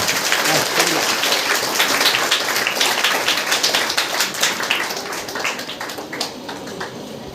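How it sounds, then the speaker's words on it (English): An audience at a school Independence Day celebration claps for a prize winner, a dense, lively burst of many hands that stays strong, then gradually thins and softens toward the end. "So please give him a very big clap."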